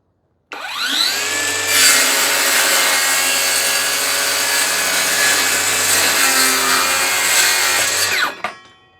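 T-Cepo battery-powered circular saw cutting wood: motor spins up to a loud, steady high whine with a rough rasping bite through the board for several seconds, then winds down, close and alone.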